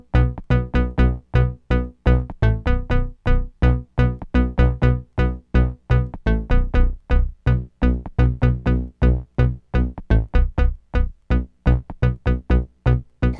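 Layered synthesizers with detuned oscillators play over a Moog Model D bass line, a steady pulsing pattern of short, punchy notes repeating evenly and loudly without any talk.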